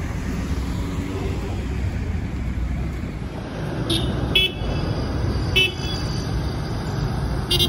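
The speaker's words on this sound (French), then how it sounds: "les taxis livrent leurs chants en klaxonnant certainement pour signaler qu'ils sont libres" Taxis honking their horns on a busy street in Pointe-Noire, Congo, with several short toots rising above a steady roar of traffic and engines.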